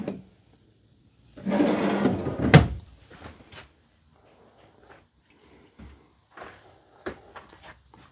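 Pull-out drawers in the closet of a 2023 Dutchmen Voltage 4225 toy hauler fifth wheel RV slide and bump shut, a sustained rolling rush followed by a sharp close, then several lighter knocks and clicks in a quiet room.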